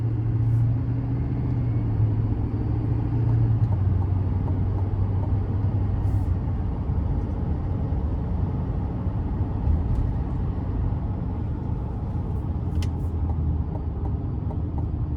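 A 2025 Chevy Silverado 2500HD LT Trail Boss heavy-duty pickup cruises along in a steady low engine and road rumble heard from inside the cab, continuous and even with no talking.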